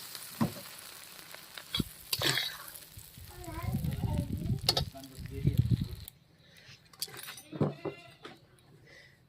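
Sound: fish roe frying and being stirred in a pan

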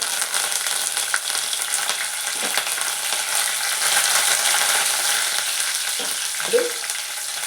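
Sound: spices, curry leaves and onions frying in hot oil

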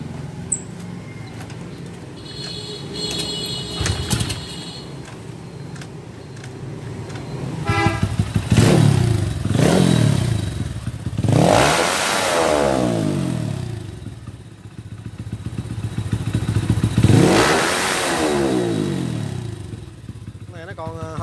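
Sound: motorcycle engine starting and revving

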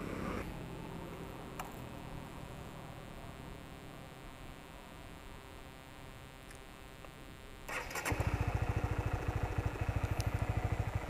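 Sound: motorcycle engine starting and idling

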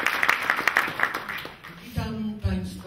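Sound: applause

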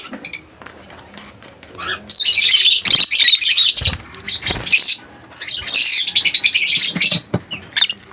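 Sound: lutino opaline pet birds calling

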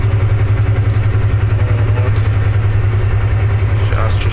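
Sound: car engine idling at a rest area

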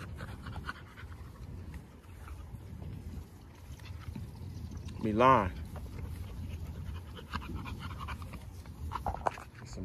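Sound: dogs panting while running

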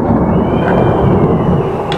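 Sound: thunder during a thunderstorm

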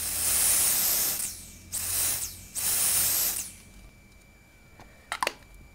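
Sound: nail polish drying spray

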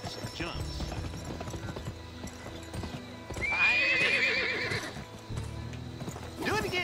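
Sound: horse galloping and neighing while jumping in video game Gun

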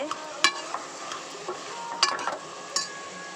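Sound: sautéing garlic and tomatoes in pan

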